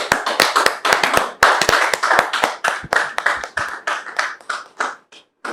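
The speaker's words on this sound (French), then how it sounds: "je voudrais vous demander de recevoir sous vos applaudissements" A studio audience on a French-language talk show claps to welcome a guest. Sharp, distinct handclaps come in a brisk, uneven patter, close and fairly loud, then thin out and fade toward the end.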